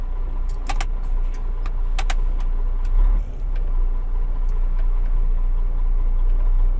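Cars idle in a traffic jam on a road where a traffic police officer directs vehicles. A steady low engine rumble runs throughout, and a few sharp jingling clicks come from inside the car.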